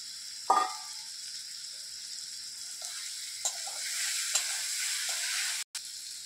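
Climbing perch (koi fish) sizzles in oil spiced with cumin, turmeric and ground jaluk seed, starting with a sharp hiss as the fish goes in and then settling into a steady close frying crackle.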